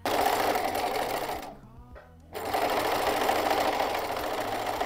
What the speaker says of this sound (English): I'm just going to sew it on the machine because it's quite well hidden within the peg bag